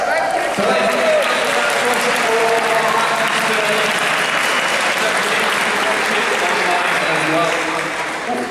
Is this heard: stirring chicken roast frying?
no